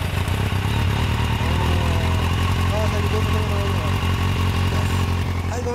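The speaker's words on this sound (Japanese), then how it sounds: "ごめん、エンジン音聞かせてもらえる？" A 2015 Suzuki GSX-R1000 L5 fitted with an LCI titanium muffler idles close by, a loud, steady rumbling throb with a slight lumpy pulse throughout.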